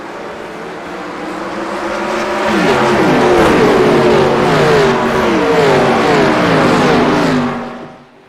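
Stock cars in the Winter NASCAR iRacing Series at Phoenix Raceway roar as a pack on a green-flag restart, engines rising in pitch together, loud and sustained before fading at the end.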